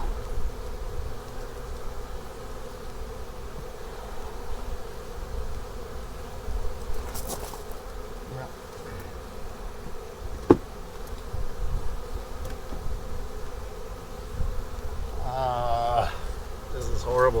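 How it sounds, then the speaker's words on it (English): Bees buzzing around a dead, moldy hive being robbed out, a steady close droning hum with occasional louder passes of individual insects and faint scraping handling noises. "The bees that are in here look like they're just robbing the place out."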